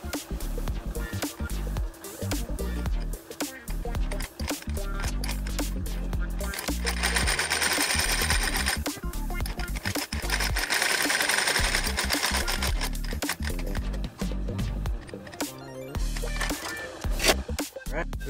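A Union leather-stitching machine sews through a leather hatchet sheath, running in a steady, loud mechanical chatter throughout, with brief pauses and shifts in pace as the stitches go in; no talking over it.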